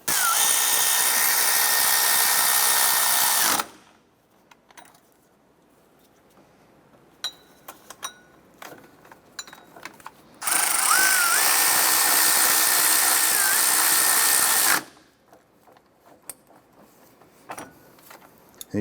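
A power tool runs in two long, loud continuous bursts while tightening engine mount bolts on a 2008-2012 Honda Accord, with quieter clinks and shop noise in the gap between them.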